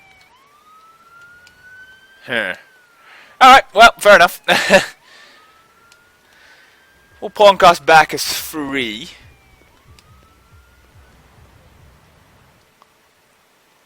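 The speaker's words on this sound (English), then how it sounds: "the siren is just playing here at this junction" A police siren in the Emergency 4 video game rises in short faint upward sweeps at a junction, recurring a few times between bursts of someone talking over it.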